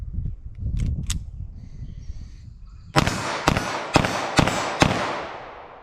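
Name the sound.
gunshots from .380 ACP pistol firing Lehigh standard pressure bullet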